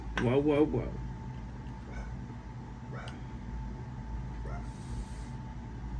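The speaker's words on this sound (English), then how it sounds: "You can hear my dog in there going crazy" A work truck owner's dog barks excitedly from inside, with a burst of sharp yelping barks at the start that then fades into a few faint yips under low background rumble.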